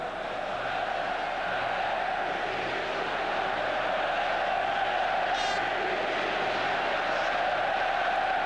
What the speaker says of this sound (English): in the background if you can hear the crowd getting slightly restless